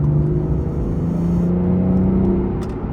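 Inside a BMW 640 diesel, the engine hums as a low, steady drone with a slowly rising tone, as if under gentle acceleration, filling the cabin evenly without speech.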